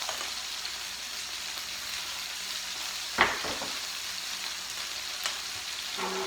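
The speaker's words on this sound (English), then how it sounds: "you just want to cook them for a few minutes until they're just a little bit softened" Cherry tomatoes sprinkled with sugar sizzle steadily in a pan, a continuous close frying hiss with a couple of light clicks from utensil or pan, no talking.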